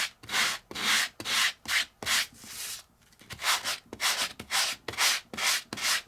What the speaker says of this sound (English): Give it a little bit of a sand.